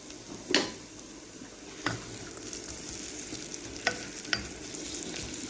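Onions sautéing in a spoonful of ghee in a pan, a soft continuous sizzle with occasional scraping knocks from a spoon stirring, quiet and close with no speech.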